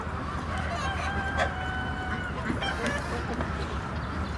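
A small Brakel bantam rooster crows once over steady background noise, with other birds faintly around.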